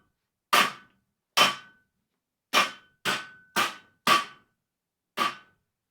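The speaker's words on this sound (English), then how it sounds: "Hammer time!" Hammer blows strike sharply on a homemade shelf, seven loud, close, separate impacts in an uneven rhythm with short ringing tails and silence between them.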